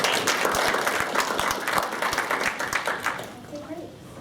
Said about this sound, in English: please let's give her a warm round of applause